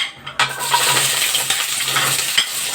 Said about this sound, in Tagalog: ipiprito ko muna yung patatas at saka carrots